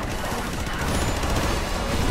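A gun fires rapidly in the video game Astro Bot, a dense, continuous rattle of shots that stays loud and close throughout.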